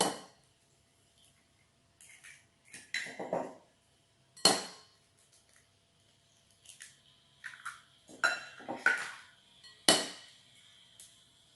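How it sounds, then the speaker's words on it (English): Eggs cracked one after another for a fruit and nut banana loaf, giving a string of sharp, close taps and shell knocks spread through the quiet, with no talking. "Crack your eggs."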